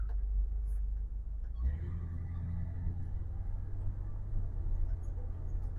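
A 1972 Chevrolet Cheyenne C10 pickup drives along with a steady low engine rumble, its tone changing partway through as it shifts gears, heard from inside the cab with no talking.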